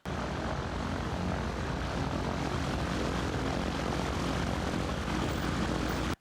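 A Grob Tutor propeller training aircraft, used to train British air force pilots, drones with a steady, dense engine and propeller roar that stays constant throughout.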